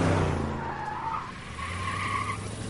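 Tires skid and squeal during a car chase in the game L.A. Noire, two drawn-out screeches over a low engine rumble, fairly close and with no voices.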